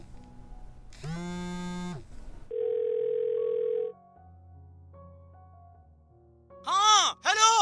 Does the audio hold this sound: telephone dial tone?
yes